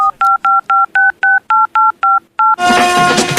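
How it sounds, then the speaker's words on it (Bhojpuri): A phone number being dialed on a telephone keypad: about a dozen evenly spaced touch-tone beeps in quick succession, loud and close, followed by a burst of louder sound. "रुका अभी लगाबै छी भैया फोन रुका लगाबै छी"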